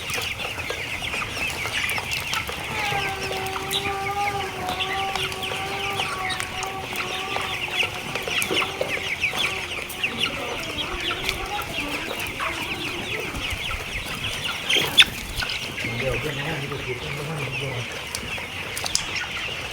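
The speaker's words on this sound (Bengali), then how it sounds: "এই যে মুরগিগুলাই দেখেন খুবই সুস্থ সবল আছে মাশাল্লাহ।" Broiler chickens in a poultry farm shed cluck and call continuously, with some wing flapping and a busy background hum, several birds close by.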